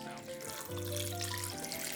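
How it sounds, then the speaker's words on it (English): Water poured from a cup over raisins and dried apricots in a bowl, a steady close splashing stream with a rising pitch as it fills. "put the raisins and apricots into a bowl and cover with the 1½ cups of water"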